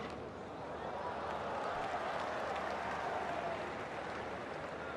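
Cricket crowd at Eden Gardens during India's first pink-ball Test against Bangladesh, a dense continuous roar of cheering and applause that stays steady throughout.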